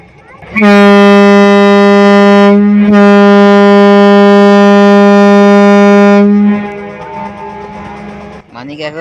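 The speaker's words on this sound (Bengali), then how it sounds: "লঞ্চের যে হর্ন এটা খুবই লাউড" A very loud, deep horn from the passenger launch MV Manik 11 blasts for several seconds, with a short break, then fades into background noise.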